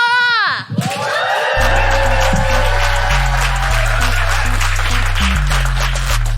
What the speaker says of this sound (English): Another round of applause for Sikisa.